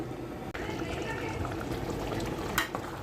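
Mango and tripe curry bubbles gently over low heat, a steady soft simmer and sizzle throughout with one brief clatter.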